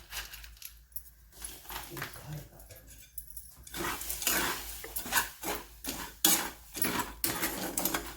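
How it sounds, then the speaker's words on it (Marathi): Dry chickpeas poured into hot salt in a pan over medium heat and stirred for roasting, giving a close, dense rattling and scraping that starts quietly and grows busier and louder, with light clinks throughout. "आता हे मी अजून हरभरे अशा पद्धतीने टाकत आहे पहा"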